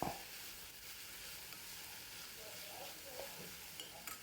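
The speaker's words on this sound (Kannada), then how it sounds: "ಇದಕ್ಕೀಗ ನಾನೀಗ ಕರಿಬೇವನ್ನು ಹಾಕ್ತಾಯಿದ್ದೀನಿ." Curry leaves sizzle in hot oil in a home kitchen pan while a vegetable dish is being fried, giving a steady, close frying hiss with a few soft stirring clinks and no talk.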